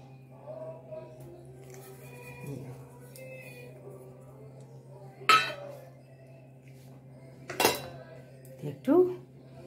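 A spoon stirs breadcrumbs into cooled, thickened milk in a pot for thandai, giving a soft steady scrape punctuated by three sharp metallic clinks against the pot, with a faint voice in the background.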